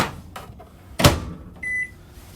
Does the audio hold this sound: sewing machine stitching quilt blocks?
no